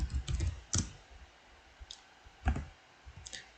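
Someone types a git clone command on a computer keyboard: a few separate bursts of sharp clicks and key taps with short pauses between them, close and clear against a quiet room.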